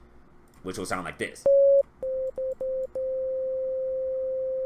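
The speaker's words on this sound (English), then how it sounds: "That's a pure sine wave right there." A pure sine wave from the FL Studio 3x Oscillator plugin sounds as a steady electronic tone, first in a few short stuttering bursts, then held continuously. Someone speaks briefly just before it.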